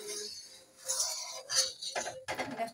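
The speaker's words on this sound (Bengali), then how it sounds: "আর সবসময় কিন্তু নাড়াতে হবে, দুধ কিন্তু নাড়াতেই হবে," A metal spoon stirs almond milk in a cooking pan, giving a few sharp, close clinks and scrapes against the metal with short quiet gaps between them.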